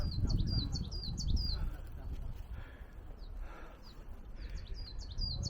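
Small birds sing on Pungaksan mountain near Namwon, repeating quick, high chirping phrases at the start and again near the end. A hiker talks quietly underneath the calls.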